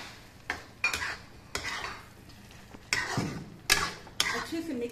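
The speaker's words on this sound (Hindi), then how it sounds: "हम इसे पनीर मिक्स कर रहे हैं।" Paneer pieces being stirred into a thick gravy in a pan, with a utensil clinking and scraping against the metal in several distinct knocks and scrapes, close up, no voices.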